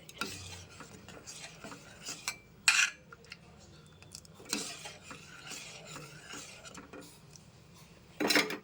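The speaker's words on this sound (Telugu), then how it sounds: "వేసుకున్నాక కలుపుకోవాలి ఇలా కలుపుకోవడం వల్ల ఉండ లేకుండా కనబడుతుంది" A spoon scrapes and clinks against a metal pot as talikala payasam made with wheat flour is stirred, in intermittent bursts with pauses between them, fairly quiet and close.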